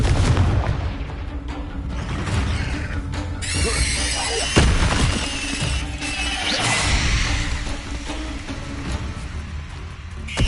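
Confringo fire spells explode during a Hogwarts Legacy battle, with sharp crashes, booms and swooshing hits layered over a steady rumble of combat noise, one strong impact standing out midway, and voices heard amid the action.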